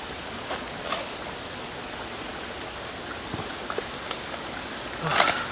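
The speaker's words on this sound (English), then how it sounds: "we are now at the stream, so yeah, let's get some water" A forest stream flows steadily at a UK wild camping spot, a close broadband wash with a few faint footstep-like knocks and a brief louder splash near the end.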